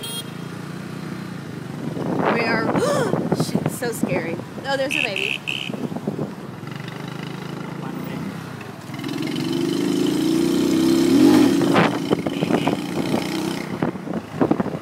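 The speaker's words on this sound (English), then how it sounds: "me and Gage are on his motorbike, and we're about to enter traffic in Saigon" Motorbike carrying two riders into busy Saigon traffic, its engine droning with wind rush and car noise around it while the riders talk over the ride.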